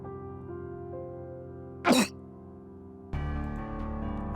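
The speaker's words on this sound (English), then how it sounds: "I cough out blood once." A single short cough cuts through a steady droning musical background in the visual novel Fate/stay night, which shifts to a brighter, louder tone shortly after.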